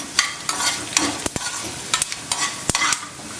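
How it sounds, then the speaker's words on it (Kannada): Cumin and black pepper fry in oil in a pan over a low flame, with a soft steady sizzle broken by repeated scraping clicks of a spoon stirring, close and alone. "ಉರಿ ಸಣ್ಣನೇ ಇಟ್ಕೊಂಡು ಫ್ರೈ ಮಾಡ್ಕೊಳ್ಳಿ ಇಲ್ಲಾಂದರೆ ಒಳಗೆಲ್ಲ ಫ್ರೈ ಆಗಲ್ಲ"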